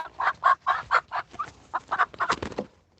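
A hen clucks in a quick series of close, loud bursts, some sounding strained as if she has a cold, with a short rapid run of clucks near the end.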